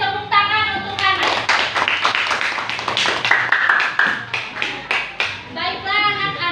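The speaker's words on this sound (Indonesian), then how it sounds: "tepuk tangan untuk anak." A classroom of children claps for a classmate, a burst of clapping that starts after a brief voice, swells, and fades as voices return at the end.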